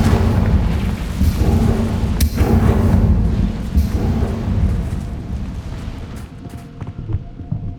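A Confringo blasting spell going off in Hogwarts Legacy, heard as loud rumbling booms and a sustained roar of explosion debris, with a sharp burst partway through and no voices.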